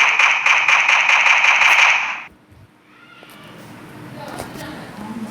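Continuous rapid machine-gun fire from a gun sound simulator app rattles loudly for about two seconds, then stops abruptly, leaving quiet handling noise and faint background sound.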